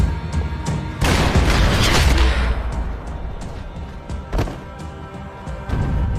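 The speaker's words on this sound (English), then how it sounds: "Gunfire over Hoboken." Loud bursts of gunfire and booming blasts in the video game Max Payne 3, a heavy volley early on, then scattered shots and thuds.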